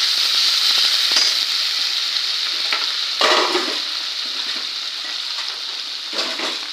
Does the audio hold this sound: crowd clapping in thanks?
no